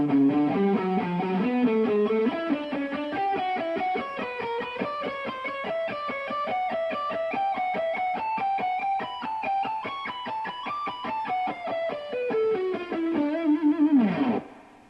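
Fast electric guitar lick, a variation on a riff, played slowly with a distorted effects tone: a continuous stream of rapid single notes climbing and falling, loud and close, ending in a quick bend with no talking.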